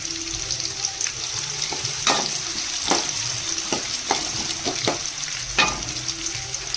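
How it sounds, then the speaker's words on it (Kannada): Onions fry with cumin in hot oil for egg rice, a close sizzle punctuated by repeated sharp scrapes and taps of a spatula stirring the pan. "ಜೀರಿಗೆ ಫ್ರೈ ಆದಮೇಲೆ ಈರುಳ್ಳಿನ ಹಾಕೋಬೇಕು"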